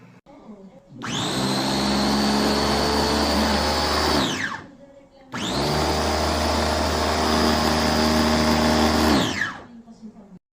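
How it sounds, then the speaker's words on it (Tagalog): A blender purees baby food mixed with formula milk in two long bursts, each a loud, steady motor whine. A short pause separates the bursts, and the second one also stops abruptly. "At ilalagay ko ito sa blender na nabili ko sa TikTok."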